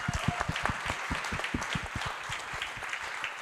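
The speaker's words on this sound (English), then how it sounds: "can we get a round of applause for Damien?" Applause from a panel audience at a clean energy workforce conference in Hawaii, a steady patter of many hands clapping together, fairly quiet and even throughout with no voices over it.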